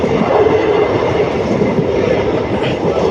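A passenger train pulls away on the Pollachi line through coconut-palm country, a loud, steady rumble of wheels and carriages with faint clattering throughout.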